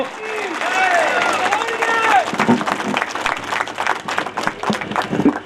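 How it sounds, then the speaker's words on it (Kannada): Audience at a speech clapping loudly to welcome a guest, a dense sustained burst of applause under a voice speaking at first, with the clapping thinning into scattered claps toward the end. "ಒಂದ್ಸರಿ ಜೋರಾಗಿ ಚಪ್ಪಾಳೆ ಮೂಲಕ ನಾವು ಅವರಿಗೆ ಅಭಿನಂದನೆಗಳನ್ನ ಸಮರ್ಪಿಸಬೇಕು"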